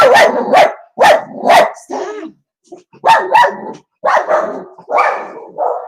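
A dog barks indoors in close, loud bursts, several sharp barks in quick pairs with short yips and a whine between them, while people talk nearby.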